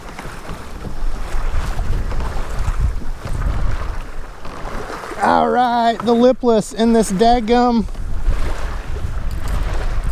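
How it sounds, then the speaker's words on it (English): Steady wind roars and buffets across the microphone outdoors, with someone speaking briefly in the middle. "It's done got windy on us."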